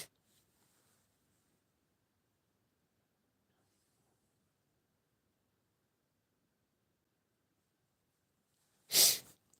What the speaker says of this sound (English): I just stifled a sneeze.